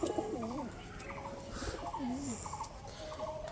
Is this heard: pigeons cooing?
yes